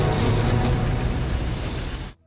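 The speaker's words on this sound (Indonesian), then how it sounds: "kereta api yang dinaiki Guna dihentikan paksa oleh petugas" A passenger train in India brought to a forced halt, its wheels giving a loud, sustained metallic squeal over heavy rumbling that cuts off abruptly after about two seconds.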